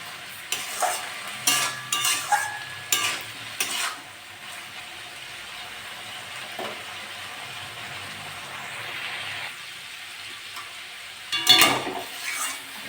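Pointed gourd and potato frying in a pan, with several bursts of spatula scraping and stirring over a soft continuous sizzle, then a quieter stretch and another loud stirring burst near the end.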